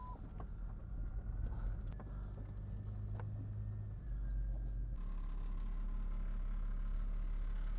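Low, steady idle of a Jeep Grand Cherokee engine, quiet and continuous with a slight shift in tone partway through, plus faint clicks and rustles nearby.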